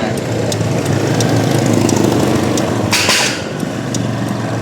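A Benelli ADX 400cc drive-chain scooter engine runs steadily during a low-speed turning test, a continuous near engine drone with wind noise and faint ticking.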